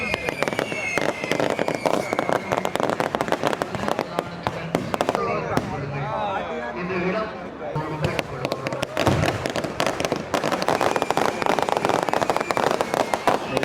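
Fireworks crackle and burst loudly and continuously at a celebration in Jaffna, with rapid bangs and sizzling explosions while voices talk and shout nearby.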